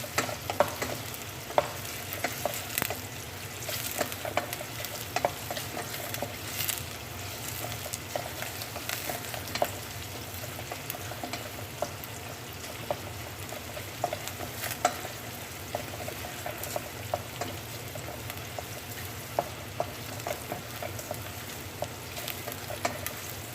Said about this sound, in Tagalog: Gisa-gisa lang po hanggang lumambot yung onion.